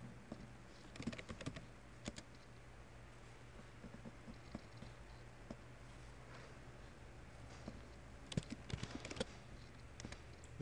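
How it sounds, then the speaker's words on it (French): Keys tapped on a computer keyboard while entering a number into a database form, scattered faint clicks in short bursts over a low steady hum. "je dois taper le numéro de la rubrique"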